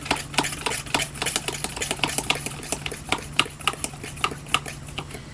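A garden pressure sprayer holding a homemade non-toxic fungicide is pumped up by hand, giving a quick series of close, sharp rhythmic clicks and pumping strokes, with no voices.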